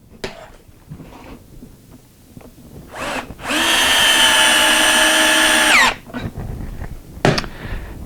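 A power drill drives a 2-inch pocket screw through a Kreg jig into wood, one loud steady whir lasting about two seconds that stops abruptly, with quieter bench clatter before and after.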